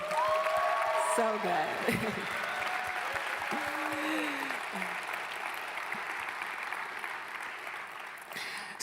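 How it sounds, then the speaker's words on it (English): Broad, sustained applause from an audience at a TEDx event at Grand Canyon University keeps going for several seconds, with a voice briefly talking over the start before the clapping continues on its own. "Let's give another round of applause for our amazing speakers tonight."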